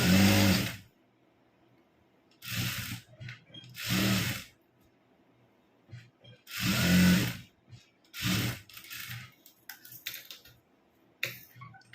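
A domestic sewing machine stitches gathered fabric for pants in short separate bursts of mechanical whirring, about five runs with quiet pauses between, close and moderately loud with no talking.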